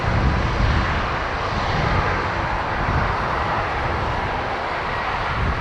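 An Aer Lingus Airbus A330 at Dublin Airport gives a steady, loud, broadband jet engine roar with no clear change over several seconds.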